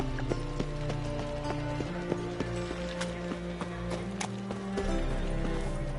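Horse hooves clip-clop at a steady trot in The Witcher III, a regular run of clear hoofbeats layered over the game's ambient music and background sound.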